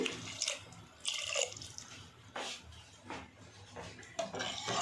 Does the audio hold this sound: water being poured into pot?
yes